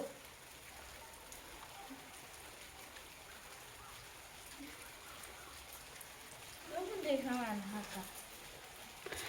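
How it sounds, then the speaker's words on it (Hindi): Steady rain falls outdoors at a low, even level throughout, with people talking over it and a louder stretch near the end. "ये देखो बारिश हो रही है"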